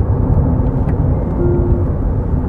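An electric SUV drives in one-pedal mode, giving a steady, loud low road and motor rumble with no pauses throughout.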